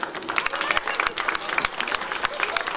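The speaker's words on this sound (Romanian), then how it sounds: "Să o primim cu aplauze pe Camelia Florescu" An audience at an evening event for a Romanian-Finnish school and community centre project breaks into dense, continuous applause to welcome a speaker, a steady wash of many hands clapping close by.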